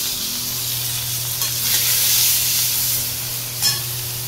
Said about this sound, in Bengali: পেঁয়াজ ভাজাটা দিয়ে দেবো